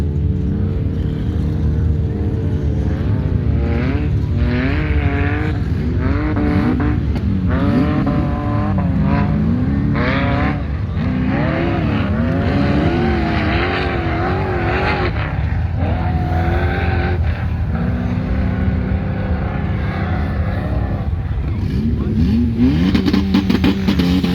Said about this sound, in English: launch the CRX. Let's see how she does.